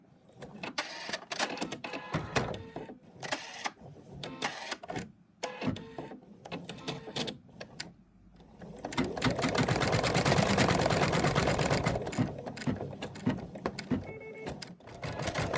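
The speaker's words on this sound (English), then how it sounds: "We're now stitching his nose." An embroidery machine stitches the nose of an in-the-hoop bunny, a rapid mechanical chattering in stop-and-start bursts that settles into a steadier, louder run, close by with no talking.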